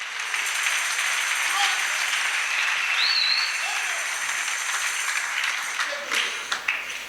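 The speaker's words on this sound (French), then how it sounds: "Une acclamation pour notre Dieu." A church congregation claps and acclaims God during a sermon. The applause is sustained and even, with voices mixed into it, and lasts throughout.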